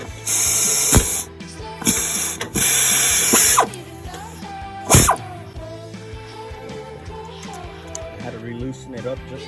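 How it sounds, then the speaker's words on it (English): A part on a Jeep Cherokee XJ is tightened during a noise repair: bursts of hissing and rapid ratcheting come and go over the first few seconds, then a sharp metallic clank, with someone talking throughout. "we're going to give it a good tighten right there"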